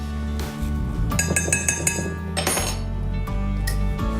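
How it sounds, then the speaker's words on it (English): Whisk clinking rhythmically against a bowl of egg yolks, caster sugar, cocoa powder and cornflour, a close run of sharp metallic taps and scrapes over a low kitchen hum. "And we whisk this together."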